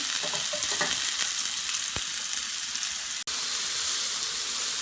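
Kebabs browning in a pan on a stove top give a steady, close sizzle with light frying crackle throughout, broken by a brief dip near the end, and no voices.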